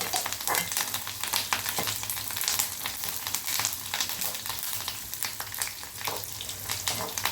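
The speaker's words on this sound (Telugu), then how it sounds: "చూడండి, ఉల్లిపాయలు చక్కగా ఫ్రై చూసారా." Chopped onions and garlic cloves fry in a hot pan for tomato rasam, a steady, dense sizzle with crackling throughout and no talking.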